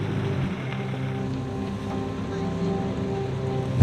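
Open-top 4x4 Jeep driving in the dark before dawn on the road to Mount Batur in Bali: a steady low engine rumble mixed with constant wind buffeting, loud and unbroken throughout.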